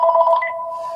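A home telephone rings with a steady electronic warble that repeats in quick pulses at first, then holds as a single continuous tone, close and clear with no talking over it.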